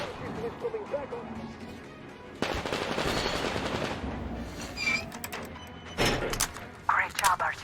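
Mounted machine gun fire in the Metro video game, dense sustained bursts that start abruptly and run for several seconds, with breaks and a voice speaking over the shooting.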